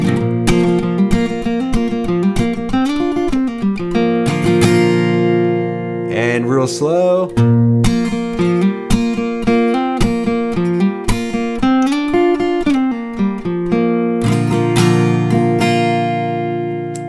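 Bright acoustic guitar playing bluegrass flatpicking licks, fast single-note runs and slides with a steady rhythm, up close, with a brief spoken count-in near the start.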